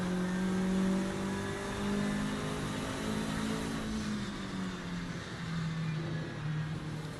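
A TCR touring race car at Mugello, its engine note sweeping and dropping as it downshifts into Casanova corner, a steady loud drone with a falling pitch through the gear change.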